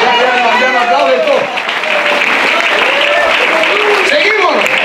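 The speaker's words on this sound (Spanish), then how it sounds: "Como dos están aplaudiendo ahora." A church congregation claps during a Spanish-language sermon, brief bursts of applause mixed under a preacher's raised voice speaking throughout.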